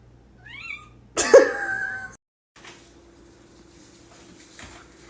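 A cat gives a short rising chirp followed by a loud, harsh meow close by, then quieter household sounds with a faint hum.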